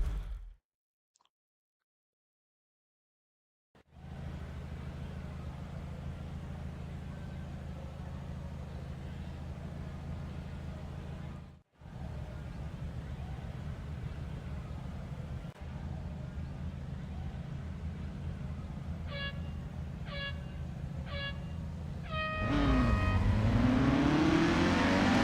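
Race cars from the Real Racing 3 video game at Mount Panorama droning steadily with a low engine hum for most of the run, a brief cut midway, then louder revving and shifting near the end.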